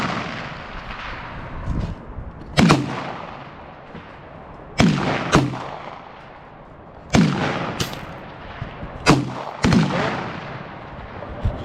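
BB gun shots at a shooting range, a series of sharp cracks spaced a second or two apart, some in quick pairs, over steady outdoor background noise.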